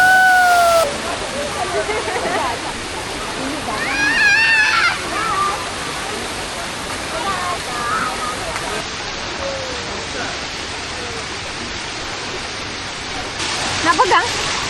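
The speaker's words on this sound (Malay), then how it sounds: "Hari hujan lah." Heavy rain pouring outdoors at a resort in Malaysia, a loud, steady broadband rush like falling water, with occasional brief chirps and children's voices in the background.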